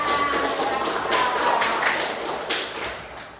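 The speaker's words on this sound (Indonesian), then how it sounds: "Kasih aplaus untuk Azena." Students in a classroom give a round of applause, a dense burst of clapping that fills the room and fades toward the end.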